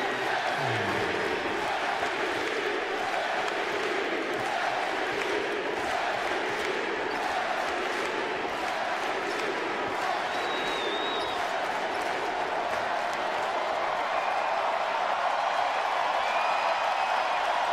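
A basketball arena crowd chants MVP for Damian Lillard of the Trail Blazers, a dense, sustained roar of many voices that fills the whole stretch at a steady, even level.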